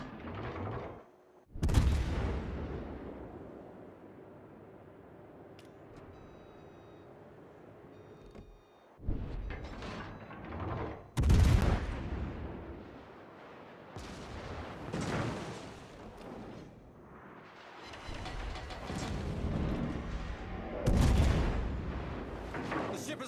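Naval guns fire in World of Warships as heavy booming salvos: several loud blasts spaced seconds apart, each rolling off into a low rumble, with quieter stretches of engine and sea noise between them.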